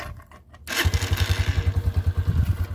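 A cold 2022 Honda CG 125 single-cylinder motorcycle starting on half choke: a brief cranking whir, then it catches and settles into a close, loud, steady thumping idle with even rapid pulses.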